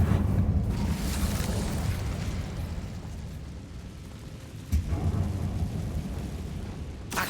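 Incendio fire spell cast in Hogwarts Legacy, a loud roaring burst of flame with a deep rumbling body that swells, dips, and flares again near the end, with no talking.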